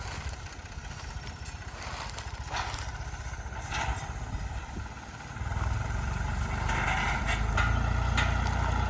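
A 3.60 farm tractor engine gives a steady, low rumble throughout, growing louder and heavier about halfway through as the motor works harder, with no talking.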